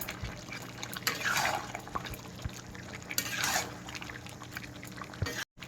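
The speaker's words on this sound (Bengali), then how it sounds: "মাংসটা কষানো হয়ে গেছে, এবার আলু দিয়ে জল দিয়ে দেবো।" Water poured into a pan of browned chicken curry with potatoes, a coriander chicken dish, giving two soft splashing gushes over a low steady kitchen background.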